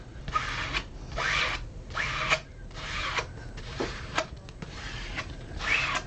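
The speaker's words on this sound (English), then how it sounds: "You want to make sure that you're scraping all of that away." Odicoat waterproofing coating is scraped across fabric in a thin layer, giving repeated rhythmic rasping strokes, roughly one per second, close and clear with no voices.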